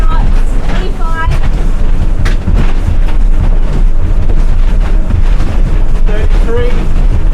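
A Merry Fisher 895 Serie 2 motorboat running at speed, around 20 to 25 knots, with a loud, steady roar of engine, hull and wind noise throughout and faint voices now and then.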